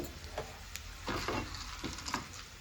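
Dried red chillies fry in hot oil for a tempering, giving a steady low sizzle with a few brief crackles and stirring scrapes, and no voices.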